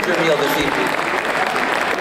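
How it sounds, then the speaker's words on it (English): Audience at a fashion gala dinner applauds the serving and kitchen staff, a dense steady clapping that runs throughout while someone speaks over it. "How about a round of applause also for the staff that served you your meal"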